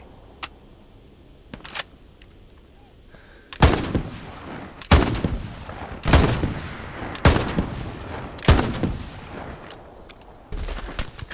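Machine gun fire in the WWII shooter Hell Let Loose: several loud bursts of automatic gunfire, close by, spaced about a second apart after a few sharp single shots, with no talking.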